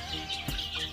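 On a farm, newly hatched chicks from a homemade incubator peep and chickens cluck in a brief burst, with a soft knock in the middle, close and faint.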